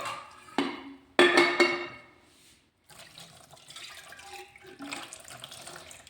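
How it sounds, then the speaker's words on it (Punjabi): A thermos flask is rinsed under running water, with two short bursts of splashing and gushing near the start, then quieter trickling and sloshing, close and fairly soft, with no talk. "ਸਾਫ ਪਾਣੀ ਦੇ ਨਾਲ ਕਲੀਨ ਕਰ ਦਾਂਗੇ"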